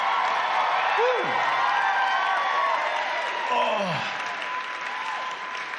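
Loud audience applause and cheering at a Katya stand-up comedy show, a continuous dense wash of clapping with scattered whoops and shouts throughout, easing slightly toward the end.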